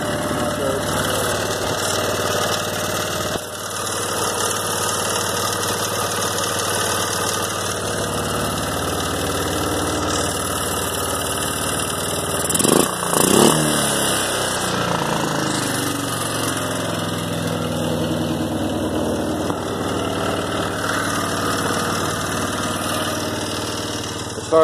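A 2002 Arctic Cat 375 4x4 ATV with a new carburetor and a sock over the air intake runs close by, its engine holding a steady loud idle with a brief surge near the middle, no talking.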